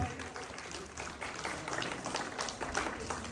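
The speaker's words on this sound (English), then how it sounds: "So please give her a huge round of applause" Fairly faint applause from students and guests at a school investiture ceremony, a dense patter of clapping over a few seconds with murmuring in the background.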